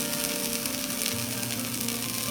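A Normandy crêpe filled with apple pieces and cinnamon sizzles steadily in a pan over low heat, a close, even, continuous frying hiss with no voices.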